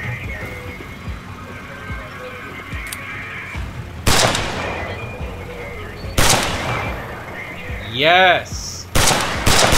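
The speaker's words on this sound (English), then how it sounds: "Let's test out this new rifle" A new armor-piercing rifle fires loud, sharp cracks in a video game, with several separate shots spaced across the stretch, a whirring mechanical sweep in between, and a brief shout.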